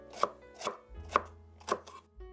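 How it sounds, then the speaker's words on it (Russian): A knife chops two bell peppers into large pieces on a cutting board, four distinct sharp thuds at an uneven pace, close and clear with no talking. "Крупными кусочками порежу вот таких 2 болгарских перца."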